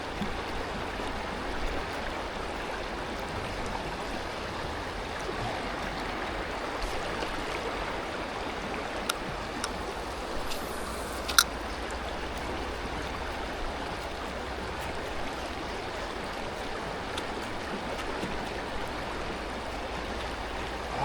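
River current flowing where smallmouth bass hold, a steady, soft, continuous wash of moving water throughout, with a few faint clicks and no voices.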